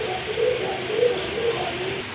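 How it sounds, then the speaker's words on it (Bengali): A pair of Koka pigeons coos nearby, giving a soft, repeated, rhythmic rolling call alone for about two seconds. "এক জোড়া কোকা কবুতর আছে মার্শাল্লাহ খুবই সুন্দর খুব ভালো ডাকে এই জোড়াটা"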